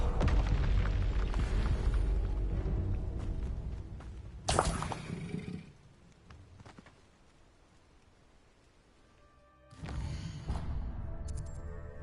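Two booming blasts from the Confringo fire spell in Hogwarts Legacy, each a sharp loud burst that rumbles on. The first hits over continuous combat noise and the second follows after a quiet gap.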